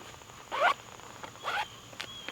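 A zipper on a Multicam military smock is pulled in two quick close strokes, followed by a few light clicks of fabric handling.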